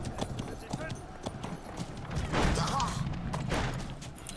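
Horses clip-clop in the Conqueror's Blade territory-wars video game, a rapid rhythmic patter of hooves mixed with game battle noise while players talk over it.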